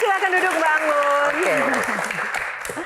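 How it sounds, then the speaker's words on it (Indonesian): A studio audience at a televised Q&A show applauds continuously. The broad clapping runs under a prominent voice throughout. "Tepuk tangan sekali lagi"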